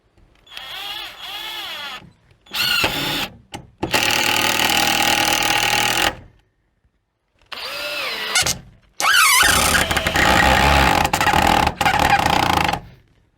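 Cordless impact driver (Dnipro-M DTD-200) driving a long black screw, loud rattling hammering bursts in several runs separated by short silences, with whirring motor tones between impacts.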